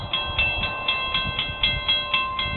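Florida East Coast train number 101 passing by Milepost 216 at Old Dixie Highway, with a steady run of rhythmic clickety-clack wheel beats and a sustained high tonal ring from the rails, fairly close and loud.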